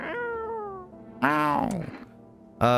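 A cat meows in the video game No, I'm Not A Human, several drawn-out, wavering calls with a pause between, close and clear while a person's voice is heard.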